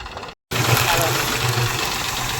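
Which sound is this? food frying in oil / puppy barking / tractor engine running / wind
tractor engine running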